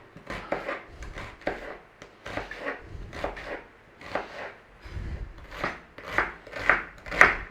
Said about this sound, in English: In on the onion, we want to cube it up.